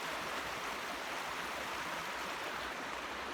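Steady broadband rush of a flowing stream beside an old mill, a continuous even wash of water with no pauses, fairly close and moderately loud, no voices.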